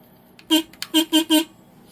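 A small factory horn on a Suzuki Savage motorcycle beeps four times in short bursts, the first one alone, then three quickly in a row, thin and nasal, close up.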